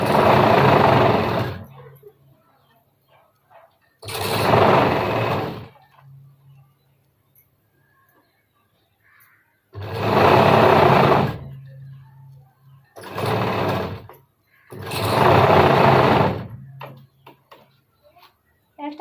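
A sewing machine stitching a blouse lining runs in five separate bursts of fast, whirring, ticking stitches, with quiet pauses between them.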